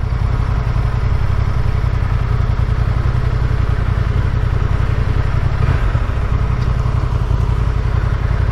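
A motorcycle engine idles close by with a steady, loud low rumble throughout. It sounds like a Triumph Tiger 800 or a Honda, with no talking over it.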